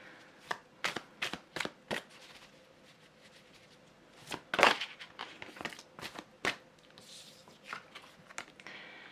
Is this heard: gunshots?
no